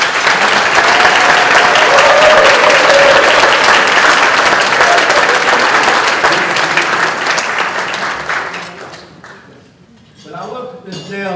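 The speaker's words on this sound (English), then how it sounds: "So let's give a big round of applause to Miss Emma." Loud, sustained clapping from a crowd at a 2017 volunteer gala fills most of the stretch before thinning out near the end, when a voice comes through.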